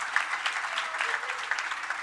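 A crowd applauds during a Srimad Bhagavatam lecture, with steady, even clapping that carries on throughout the short stretch and no voices above it.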